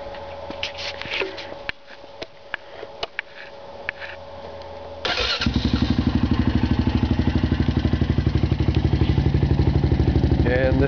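A 2008 Honda Foreman ATV engine, already warm and fitted with a taller snorkel and 27-inch Outlaw tires, fires up at about five seconds and settles into a loud, close, steady pulsing run. Before that come faint clicks and handling noise.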